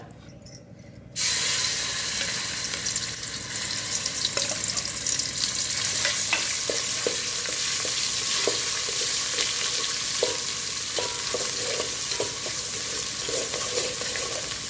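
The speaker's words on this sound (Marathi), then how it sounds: "तेल गरम झाले की टाकणार आहोत आपण वाटणाचा मसाला।" Ground masala paste hits hot oil for a spicy mutton curry: a soft start jumps into a loud, steady, close sizzle with scattered pops and crackles that runs unbroken, no voices.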